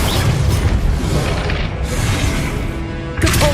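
Deep booming fire blast from the Confringo spell in Hogwarts Legacy, a loud sustained rumble with a sharper burst near the end amid the clatter of combat.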